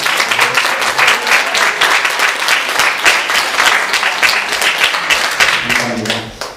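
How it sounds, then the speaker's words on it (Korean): A church congregation claps together at a Sunday worship service to welcome a newly registered member, dense steady applause filling the room for several seconds before tapering at the end, with faint voices beneath. "우리 박수로 환영하겠습니다."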